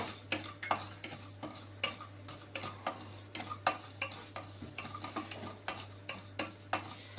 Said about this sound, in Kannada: ಈ ಜೀರಿಗೆ ಹುರಿದಿದೆ